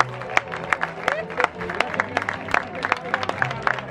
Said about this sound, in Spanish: empezó todo el mundo a aplaudir